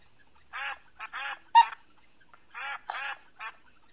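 Cartoon bird honking in the Rubby Bird mobile game as it is rubbed, a string of short nasal goose-like honks in two clusters with brief gaps, clear and isolated against silence.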